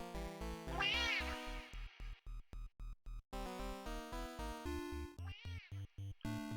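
Two drawn-out cat meows, one near the start and one later, rise over bouncy electronic game music with steady rhythmic notes.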